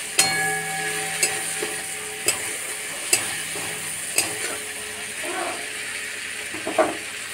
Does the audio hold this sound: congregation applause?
no